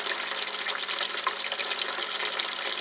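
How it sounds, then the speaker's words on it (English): Water pouring steadily into a bucket in an orchid greenhouse, a continuous close gushing splash that carries on without a break and with no one talking. "I'm filling the bucket up with some more old water"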